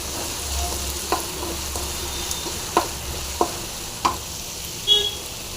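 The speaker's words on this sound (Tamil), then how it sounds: "நல்லா ஃப்ரை ஆகிட்டு வருதுங்க" Tomato and coriander frying in a pan for an egg and mudakathan stir-fry, a soft continuous sizzle with a few sharp spatula clicks and scrapes at irregular intervals, close and without talk.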